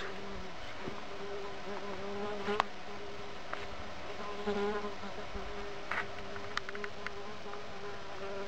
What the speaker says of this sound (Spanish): Y el famosito zumbido de los tanitos